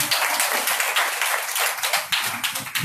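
An audience at a devotional gathering in Noida claps heartily, with a close, continuous patter of many hands and a few louder strikes, heard briefly.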